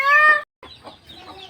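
A hen on a poultry farm gives a loud, drawn-out cluck, then softer, broken clucking follows after a brief gap, close to the microphone.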